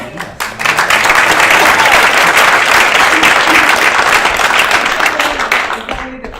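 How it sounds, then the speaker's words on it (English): Sustained round of applause from an audience at a school event, dense steady clapping rising quickly and holding loud for several seconds before easing slightly at the end. "So that deserves a round of applause."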